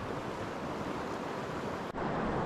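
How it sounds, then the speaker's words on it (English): Breaking waves and churning white water roar steadily at high tide in Maces Bay, New Brunswick, heard from a kayak as a dense, loud wash with wind buffeting the microphone and a brief dip near the end. "Loads of white water. Lots of breaking waves."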